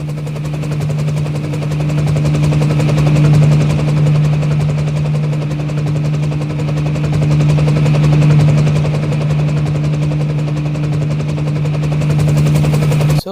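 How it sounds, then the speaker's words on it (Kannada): Toy RC helicopter flying nearby, a loud steady motor whine with a rapid buzzing rotor flutter, sustained and unbroken with slight swells in level, no voices. "let's go there and do some cinematics and videography on this helicopter"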